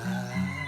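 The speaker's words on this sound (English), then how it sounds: "even the roosters getting in on action over here." Rooster crowing amid a Hawaiian setting of singing birds, a short, fairly loud call with two rising bursts over steady background.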